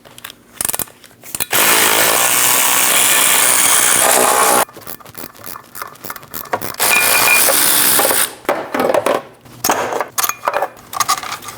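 A power tool spins off drive shaft bolts on a 2011 Dodge Durango 5.7L V8, loud sustained whirring bursts of a few seconds each separated by short rattling pauses and clinks, close by.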